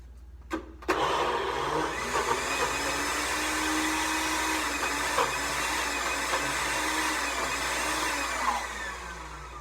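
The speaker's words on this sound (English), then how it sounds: "I stick it upside down and I put it in the blender and it'll make a really loud noise" A blender whirs loudly and steadily after a couple of clicks, its motor pitch shifting slightly as it runs continuously.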